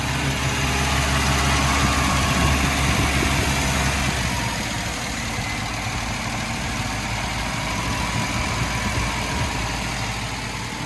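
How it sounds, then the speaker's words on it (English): A Ford Falcon 500 XY ute engine idling with the choke on full, a steady close rumble with a constant mechanical hum and no change in pace, running alone without any talk. "And got the choke on full, I could idle it down, I suppose."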